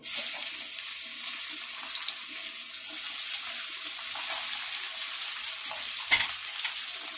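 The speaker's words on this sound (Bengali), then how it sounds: "এগুলোকে একটু ভেজে নেব। পেঁয়াজটা হালকা ভেজে নিয়েছি।" Chopped onion frying in a pan alongside cinnamon, cloves, cardamom and nutmeg, giving a steady bright hiss of sizzling oil throughout, close up, with a brief clatter near the end and no talk.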